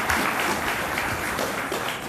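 Dense, continuous crowd applause fills a short stretch at an outdoor groundbreaking ceremony, a loud, even wash of many hands clapping without speech.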